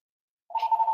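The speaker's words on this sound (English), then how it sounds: "that phone's going to have to just ring." A telephone starts ringing halfway through, a steady electronic ring tone alone and fairly clear, with nobody talking over it.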